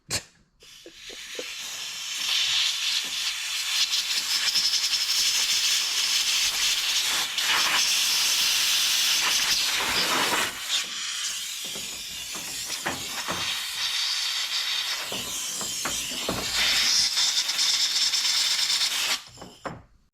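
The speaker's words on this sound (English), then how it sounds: "I'm just going to take an air compressor and clean those out" Compressed air from an air compressor hisses loudly through leaking AC service ports on a Honda Odyssey, in long sustained close-up blasts with a couple of short breaks, and no talking.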